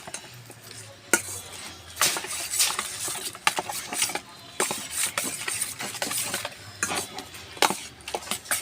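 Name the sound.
mixing meat with yogurt by hand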